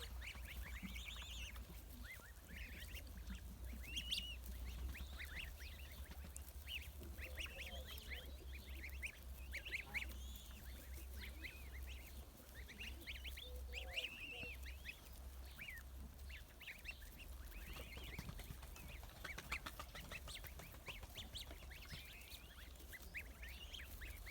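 A flock of 20-day-old Linda goslings calls continuously with soft, faint peeping and honking chirps over steady low background hum, many overlapping voices with no talk.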